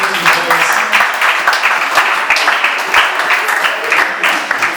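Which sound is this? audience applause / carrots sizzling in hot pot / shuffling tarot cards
audience applause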